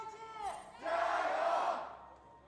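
A live crowd in an esports arena at an LPL League of Legends match between JD Gaming and Invictus Gaming raises a rhythmic chant, then a loud sustained shout of cheering that fades out. A voice is heard briefly near the start.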